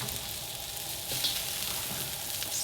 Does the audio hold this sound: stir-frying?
yes